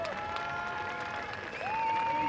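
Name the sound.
crowd applause at wakeboard championship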